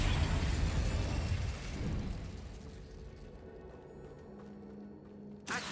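A fiery blast from the Incendio spell in the video game Hogwarts Legacy, a loud opening burst that roars and fades over a few seconds, followed by a faint tail and a short sharp pop at the end.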